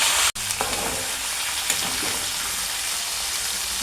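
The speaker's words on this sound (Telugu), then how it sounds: "ఆకులు, మునగాకులు వేసుకొని ఫ్రై చేసుకోవాలి" Drumstick leaves tossed into hot oil in a pan for mulagaku fry, setting off a loud, continuous sizzle right up close that keeps going steadily after a brief gap at the start.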